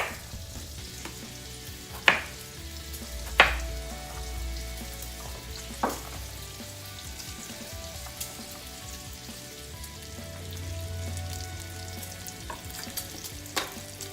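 Applewood bacon frying in a pan, with a steady crackling sizzle throughout, occasional sharp pops and utensil clinks, close and fairly loud with no talking.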